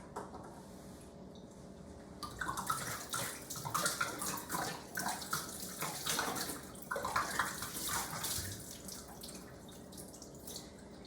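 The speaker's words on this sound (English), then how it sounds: "Step number one, as always, is going to be wash your hands." Hands being washed under a running tap: a steady gush of water with shifting splashes as hands move through the stream, near and fairly faint, starting after a quieter moment.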